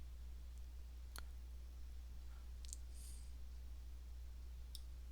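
A computer mouse gives a few isolated soft clicks, spaced apart, over a low steady electrical hum.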